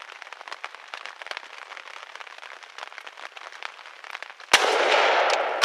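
A single loud rifle shot fired during a Vermont youth-season bear hunt cracks out sharply, with a long rolling echo that trails behind it. The shot comes after several seconds of quieter, crackly outdoor background.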